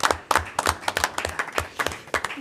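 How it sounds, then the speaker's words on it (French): A small group at a municipal council meeting claps, a sparse, distinct patter of individual hand claps close by, uneven in rhythm and moderately quiet. "je pense qu'on va s'applaudir"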